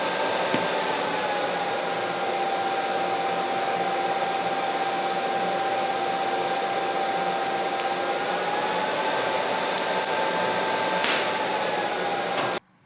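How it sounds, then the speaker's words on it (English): Steady loud hiss and buzz of a welder laying fusion tacks while building a custom welding cart, a continuous tone with a faint whine that cuts off abruptly at the end. "I'm just going to do fusion tacks on top to start with."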